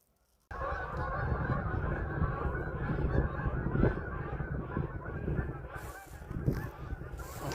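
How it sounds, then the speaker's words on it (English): A flock of geese honks continuously and fairly loudly on a cold December day at a trail system, many overlapping calls layered into a steady chorus with no talking. "And I guess the geese are in the clear after today. And they're probably celebrating right now."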